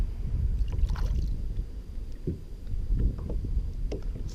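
Soft splashing and knocking of oars rowing a rowboat through water at a slow, irregular rhythm, with wind rushing across the microphone.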